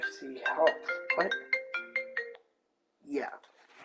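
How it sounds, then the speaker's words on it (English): A mobile phone ringtone goes off during a baseball video game stream, a melodic tone sequence sounding for about two seconds close to the microphone, followed by a pause and then a burst of speech. "That was my phone going off."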